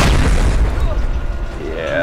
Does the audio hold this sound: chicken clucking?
no